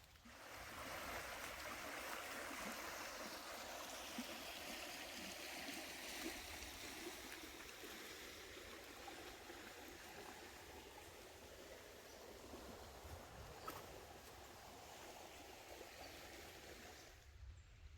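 Little Sand Creek running strong after an afternoon rainstorm, a steady broadband rush of flowing water that holds evenly throughout with no voices.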